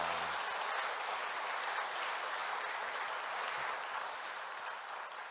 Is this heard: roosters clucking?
no